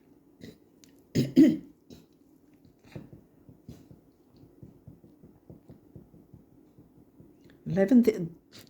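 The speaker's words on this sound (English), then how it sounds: "I've been coughing all over this reading" Two close coughs, one early and one near the end, each a short harsh burst, with a low steady hum and small clicks in between.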